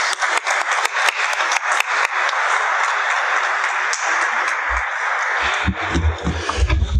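A conference audience claps in a few separate sharp claps that quickly swell into sustained, dense applause. Low thumps and shuffling come near the end as the clapping fades.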